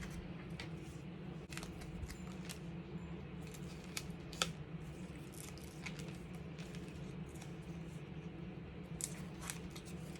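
Scissors snip through paper for a scrapbook layout in quick, close crisp cuts, some in short bursts, against a quiet room background.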